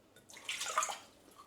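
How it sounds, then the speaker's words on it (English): Water is poured into a saucepan in a short splashing gush that swells, peaks and trails off within about a second, close and alone. "I'm going to add 2 cups of water to this saucepan"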